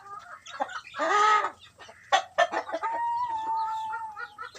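Nearby Aseel chickens cluck and call, with a drawn-out crowing cry followed by a run of softer clucks and squawks.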